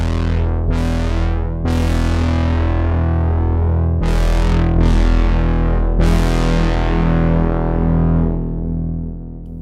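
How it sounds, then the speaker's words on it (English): Oberheim-style brassy synth patch in Omnisphere 3, with thick, distorted chord stabs and swells that start brightly and fade, five loud hits that overlap and ring out, with no voices. "For those big Oberheim brassy type sounds."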